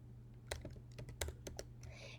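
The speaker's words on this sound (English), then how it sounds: "I'm going to type in a name for this meeting." Someone types on a computer keyboard in short, irregular bursts of crisp clicks. The keystrokes are soft and close over a quiet low hum.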